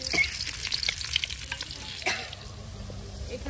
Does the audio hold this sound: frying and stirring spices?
yes